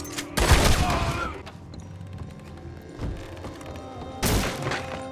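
Gunshots in Red Dead Redemption 2: three loud, booming blasts spaced a couple of seconds apart, with quieter background rumble between them.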